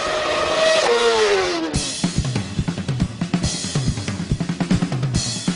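A Formula race car engine revs before a race start, first a sustained high rev that drops, then a rapid series of sharp rhythmic blips of the throttle, loud and close with no talk.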